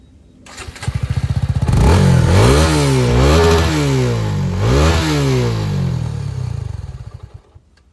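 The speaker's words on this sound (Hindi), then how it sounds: "और अभी आ जाते हैं सुजुकी के एग्जॉस्ट नोट पे।" A Suzuki V-Strom SX 250 motorcycle fires up and its exhaust barks through a series of quick throttle revs, rising and falling, then drops to a steady thumping idle.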